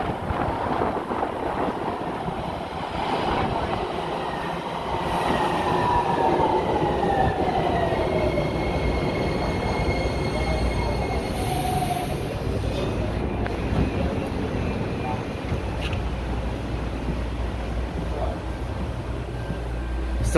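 A Miami Metrorail train pulls in and runs on, a loud, continuous rumble with rising wheel and motor whine and brief squeals, close and alone.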